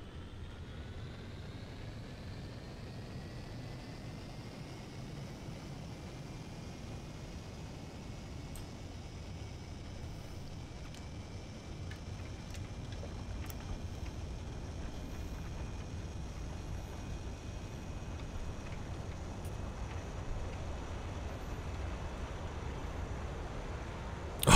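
A British bomber carrying a 4,000-pound bomb takes off in War Thunder, its engines a steady, close droning roar that slowly builds in pitch and strength over the run. No voices are heard.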